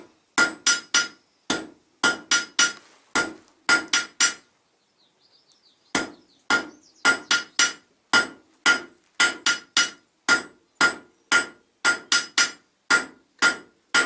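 Steel pieces struck by a blacksmith's hammer at an Acadian forge, a long series of sharp, ringing metallic blows in quick rhythmic bursts, loud and close, with one short pause midway.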